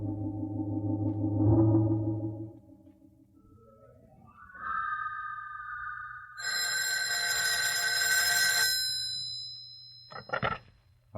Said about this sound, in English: I want Peters in on this phone call